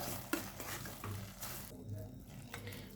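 Carrot halwa being stirred with sugar in a pan, soft faint scraping and gentle shuffling of a spoon through the thick mixture over a low background hum.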